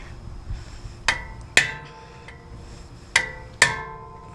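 Four sharp metallic hammer strikes on a Honda Pilot wheel hub, spaced in two pairs, each ringing briefly, close and loud against a quiet background.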